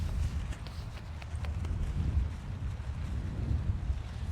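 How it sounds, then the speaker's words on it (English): Strong wind blows across a disc golf course, a steady low rumbling roar of wind buffeting the microphone, close and continuous, with no talking. "Pretty raging wind setup today"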